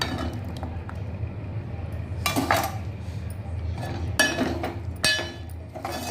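Chopped bottle gourd goes into a pan of fried onion-tomato masala, and a metal spoon clinks and clatters against the pan in short bursts, close by, with no one talking.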